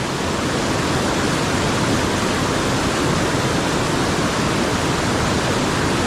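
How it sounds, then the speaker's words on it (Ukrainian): Rushing stream water at a trout and salmon fishing spot, a steady loud broadband roar, close and continuous with no other sounds. "Водичка трохи шумить."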